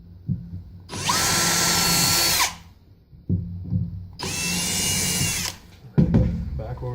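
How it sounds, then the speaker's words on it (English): A power drill bores holes through an acrylic turkey pot call blank in a workshop, with two sustained high whining bursts of about one to two seconds each, separated by handling clatter, and loud up close. "use the final size drill bit as the drill to go down through here"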